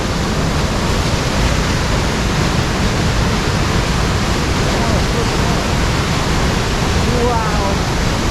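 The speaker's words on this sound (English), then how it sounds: "I hear roaring water." Heavy rushing water near Avalanche Lake, swollen after rain: a loud, constant roar of broadband noise that stays steady throughout, with a faint voice barely showing near the end.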